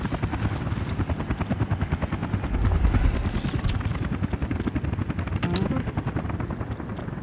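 A helicopter in the video game Workers & Resources: Soviet Republic drones with a fast, steady rotor chop, moderately loud and continuous, with a brief swell in the middle and a few sharp clicks.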